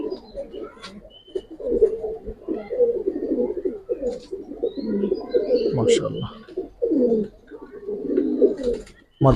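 Old-breed Giribaj pigeons cooing inside a loft: repeated soft, throaty coos close by in irregular bursts, with someone talking among them.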